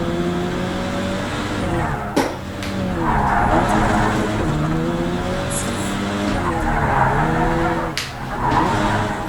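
A race car in the Project Cars 3 video game slides through corners with its tires skidding and squealing over a loud, varying engine note, with a couple of sharp bumps or shifts.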